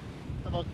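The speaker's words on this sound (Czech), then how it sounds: "je docela velký vítr a taky větší vlny" Strong wind roars across a beach battered by Cyclone Alfred, with bigger waves surging underneath; the gusty rumble is loud and close, buffeting the microphone while a person speaks over it.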